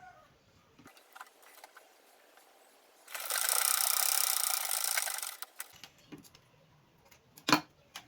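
A sewing machine runs steadily for about two and a half seconds while stitching the shoulder seam of a short A-line gown, with light clicks and handling before and after the run.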